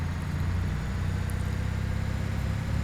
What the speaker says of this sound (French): rien que pour vous faire écouter le son du moteur